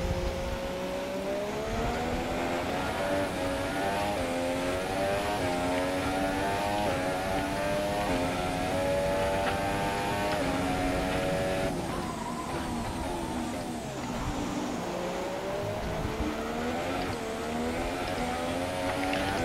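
A 1992 Williams Formula 1 race car in the F1 2017 game screams through a career race, its loud continuous engine whine climbing and dropping with throttle and gear changes throughout.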